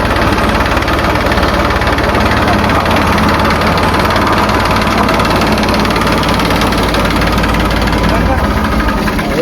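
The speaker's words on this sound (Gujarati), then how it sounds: "4 લાખ નું ટ્રેક્ટર છે." A tractor engine runs at a steady idle, loud and close, with a continuous low rumbling throb and vibration, and voices are heard over it.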